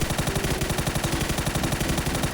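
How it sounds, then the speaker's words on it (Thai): Automatic gunfire in the video game PUBG rattles out as a rapid, steady burst of loud, close shots lasting a couple of seconds. "ยิงเลย"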